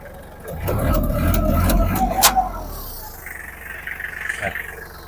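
An old imported Kubota GL25 tractor's engine runs with a fairly soft, steady low rumble and no knocking, fading after a few seconds as a voice comes in over it.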